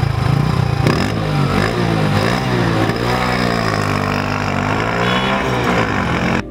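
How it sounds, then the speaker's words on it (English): A Mahindra Centuro motorcycle engine runs loud and close, its harmonic note rising and falling as the throttle is blipped and revved over several seconds, with some mechanical clatter. "So I guess it's time to crank up the engine and put the bike to a test."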